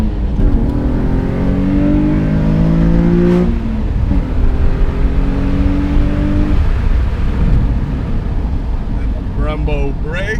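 Nissan 350Z Nismo with a stage 3 setup accelerating hard in first gear, loud and close, engine note climbing in steady revving sweeps inside the cabin, with a voice speaking over it near the end.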